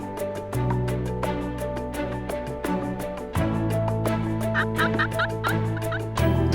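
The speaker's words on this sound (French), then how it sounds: "lorsqu'ils entendent pour la première fois les gloussements de dindon au lever du jour" Wild turkeys gobbling at dawn, several short burst calls in the later half over a constant low background hum, moderately distant and fairly faint, with no talking.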